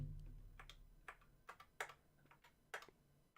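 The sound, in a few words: typing on a computer keyboard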